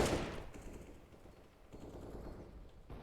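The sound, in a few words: AK rifle gunshots in Counter-Strike video game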